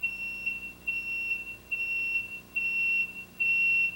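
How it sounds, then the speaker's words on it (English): An engine overheat alarm from a JetMate temperature sensor in a jet ski steering case beeps in five steady, evenly spaced high-pitched tones, fairly quiet and with no voices. "If the engine overheats, the sensor sounds an alarm in the steering case."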